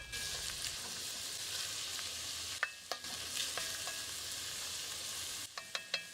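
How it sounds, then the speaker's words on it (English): Diced onion sizzles steadily in two tablespoons of olive oil in a cast iron pot, with a few sharp scrapes and knocks from the stirring spoon near the middle and end, no voices. "I've got 1 cast iron pot, 2 tablespoons of olive oil, 1 diced onion. We'll just give this a good stir."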